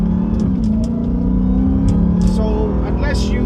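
Dodge Hellcat in custom mode accelerating with paddle shifts, a steady loud engine drone with rising pitch sweeps, a driver talking over it.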